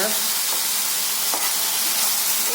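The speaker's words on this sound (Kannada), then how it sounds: "ಇದು ಇದರಲ್ಲಿ ಫ್ರೈ ಆಗ್ತಾ ಇರಲಿ." Potatoes fry in a pan on lowered heat for a dry fry, giving a loud, dense, unbroken hiss of sizzling oil close up, with no speech.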